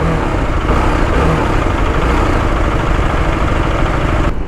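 A TVS Apache RR310 motorcycle with a suspected sensor fault runs at a steady loud idle close by, its engine drone unbroken and without clear revving, while waiting at a traffic signal.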